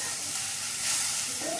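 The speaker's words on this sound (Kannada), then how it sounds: "1-2 ಮಿನಿಟ್ಸ್ ಎಲ್ಲನೂ ಫ್ರೈ ಮಾಡ್ಕೊಂಡು ಬಿಡಬೇಕು ಚೆನ್ನಾಗಿ" Onions and green chillies fry in a pan, giving a steady close sizzle and hiss that swells briefly near the middle, with no talk over it.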